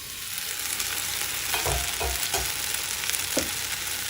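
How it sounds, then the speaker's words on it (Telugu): Tomatoes frying under a lid in a pan make a steady, continuous sizzle, with a few low thumps and short bursts rising above it partway through and no voices. "మూత పెట్టి 4-5 నిమిషాలు వేగనివ్వండి."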